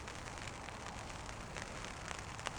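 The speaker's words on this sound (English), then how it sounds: "Rain's just started again." Rain falls on a wild windy camp in Scotland, a soft continuous hiss of drops pattering on a tent or ground with occasional sharper taps, faint and steady throughout with no voices.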